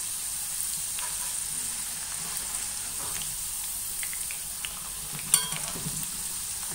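Potato slices frying in oil in a pan: a steady, even sizzle throughout, with a brief clatter near the end as the slices are turned.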